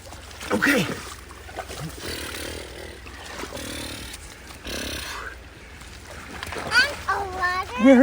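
A 4x4 monster truck crosses a creek, with water splashing and sloshing in several bursts at close range and voices talking over the scene.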